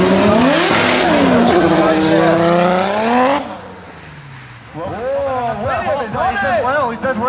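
A drift car with a turbocharged BMW M54 engine revs hard at a drift league event, the rising, wavering engine note carrying over a commentator's voice, then dropping away before further throttle blips and revving as the car slides.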